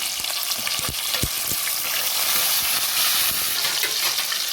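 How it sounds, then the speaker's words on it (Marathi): Chopped tomato sizzles and fries steadily in a hot tempering with asafoetida for a dal pakoda curry, a continuous close crackle with occasional stirring clicks. "आता आपण यामध्ये टमॅटो एक टमॅटो टमॅटो चिरून घातला आहे तो परतून घेऊया"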